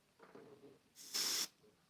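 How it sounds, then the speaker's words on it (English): An airbrush sprays paint off the edge of a cloud painting, a soft puff followed by a louder steady hiss lasting about half a second, close and isolated. "I'm going to just kind of spray off the edge"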